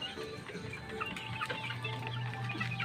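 Hens with a brood of month-and-a-half-old chicks clucking and cheeping on a farm, soft and fairly close, with steady background hum and no talking.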